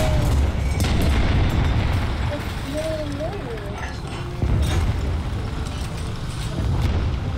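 Enemy gunfire in the War Thunder combat game: heavy booming shots and explosive thuds roll over a constant low engine rumble, with a few whistling tones, loud and close throughout.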